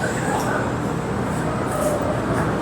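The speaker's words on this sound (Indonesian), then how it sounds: "jadi seperti ini teman-teman suasana dari stasiun Bogor Paledang baru ya" Busy indoor ambience at the new Bogor Paledang train station, a steady wash of crowd murmur and hall reverberation with distant voices, continuous and fairly loud throughout.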